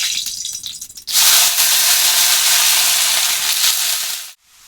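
Onion stalks dropped into hot oil in a kadai: after a second of quieter rustling, a loud, sudden burst of frying hiss sustains close up for about three seconds, then cuts off.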